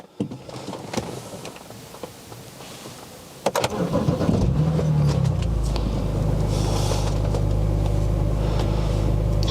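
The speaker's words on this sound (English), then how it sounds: "Let me fire up the engine and see if we have anything extra." A few clicks and clunks, then a car engine cranks and catches, settling into a steady, rumbling idle that continues to the end.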